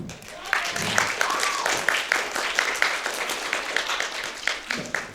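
Crowd applause for a cosplayer in a handmade costume with a tail at a convention, rapid overlapping claps close by, with a voice speaking over part of it and a few louder individual claps standing out.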